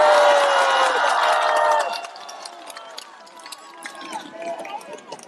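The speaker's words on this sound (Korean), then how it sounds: "우리 한동훈 위원장의 말씀을 큰 박수로 부탁드리겠습니다" A crowd at an outdoor political street rally cheers and shouts loudly for a couple of seconds, then subsides into scattered claps and calls, with voices over a thinner background.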